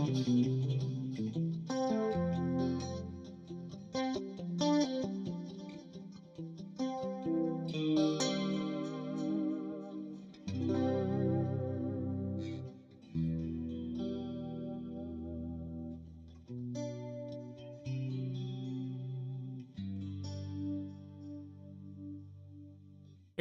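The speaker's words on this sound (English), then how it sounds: "The schmo, of course, is the chorusy goodness that you hear" Electric guitar drenched in shimmering chorus with some distortion and echo, chords and melodic lines ringing out continuously, warm and wavering, with no voices over it.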